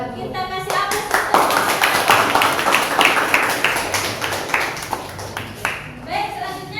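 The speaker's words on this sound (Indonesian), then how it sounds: "Kita kasih aplaus dulu." Classroom applause after a group presentation, a burst of many hands clapping close by for several seconds, with a few voices mixed in before it fades.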